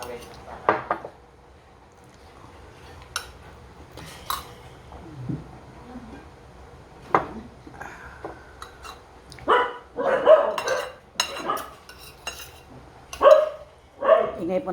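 A dog barks a few times in the later part, amid clinking dishes and people talking nearby during a meal of milkfish sinigang.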